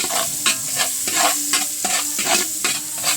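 Garlic and onion sautéed for a sopas soup, stirred in a pan with repeated scraping strokes every half second or so over a bright steady sizzle, close and fairly loud, no voices.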